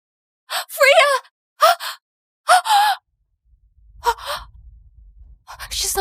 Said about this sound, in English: She's choking.